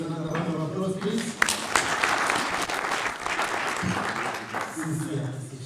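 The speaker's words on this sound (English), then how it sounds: "Here's another round of applause, please." An audience at a roundtable meeting applauds in a sustained burst of clapping that swells and carries on for several seconds, with a voice speaking over the start and end.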